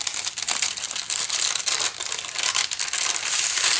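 A glassine bag is torn open up close, giving a continuous crisp crinkling and ripping rustle for several seconds with no talking.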